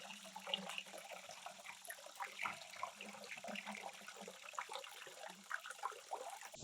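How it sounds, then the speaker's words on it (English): Plain water drenched over a wooden footbridge, a faint continuous splashing and trickling wash with irregular small spatters, heard at low level with no talk. "so I'm just gonna kind of like drench some plain water over and get it nice and wet."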